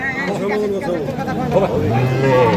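Cattle moo at a bull market, a drawn-out nearby lowing call rising and falling amid a noisy crowd of chattering voices.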